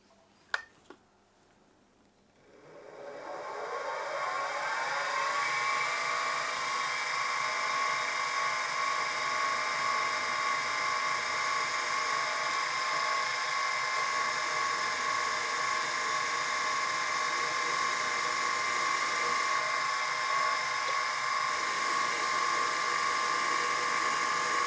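Milling machine cutting a piece of brass into beam pivot supports for a Stuart half beam steam engine: after a couple of sharp clicks, the motor spins up over a few seconds and settles into a steady, loud whirring machining drone that holds to the end.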